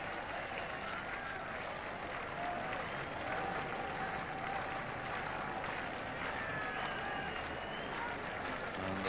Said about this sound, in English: this packed oval crowd have really had enough now. They're demonstrating